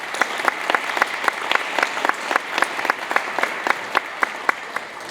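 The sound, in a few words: audience applause at school award ceremony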